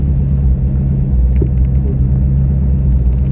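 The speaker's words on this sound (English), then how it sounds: "I think it needs to idle down a little bit more though. Still idling kind of high in my opinion." 1985 Trans Am with tuned port injection idling high, a steady low engine rumble heard from inside with faint clicking ticks partway through.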